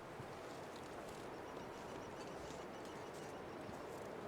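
Strong wind blowing across a snowy wilderness in The Long Dark survival game, a steady, dense rushing roar that holds at an even loudness throughout, with no one speaking.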